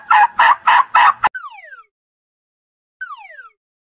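A turkey gobbles in four fast, loud bursts, then short descending chirp tones follow in a children's animal-sounds game.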